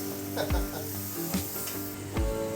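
Beef with beer and bitter melon, cooked Naga style, is stirred in a pan with a steady low sizzle and a few scraping strokes of the spoon over a short stretch.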